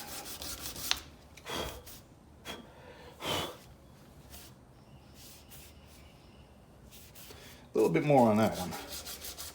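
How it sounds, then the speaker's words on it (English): Abrasive paper rubs over stainless steel pins set in a knife handle in several separate, raspy strokes with pauses between, the last burst louder and longer; a voice speaks briefly. "These stainless pins are much, much harder to sand the grind lines out of"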